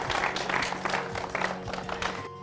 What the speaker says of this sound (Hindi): आइए इनके लिए जोरदार तालियां से इनका हम स्वागत करते हैं।